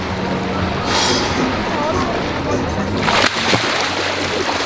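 Water splashes and sloshes loudly close by as a person wets themselves in the sea, in a few bursts of splatter over a constant wash of sea sound.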